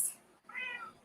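An indoor house cat gives a short, rising meow after a brief pause, close and moderately loud, with no talking.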